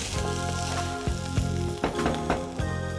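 Bitter gourd thokku with onions and dried red chillies sizzles steadily in a pan, a dense continuous frying hiss broken by several sharp scraping stirs of a spoon.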